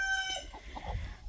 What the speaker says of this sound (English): And chickens as well.